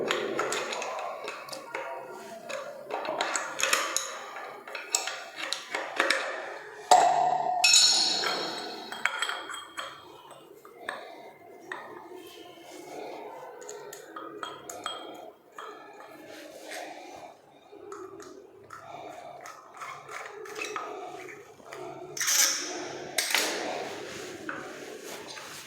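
An old metal wall mixer tap is refitted with scattered close clinks, taps and metallic knocks, irregular and sparse, with some quiet background between.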